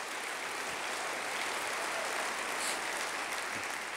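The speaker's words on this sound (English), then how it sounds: "Let's give all these institutions an awesome round of applause for the work they do." Steady, dense applause from a large audience honoring Long Beach arts institutions at a civic State of the City event, a continuous wash of clapping filling the room for several seconds with no talking.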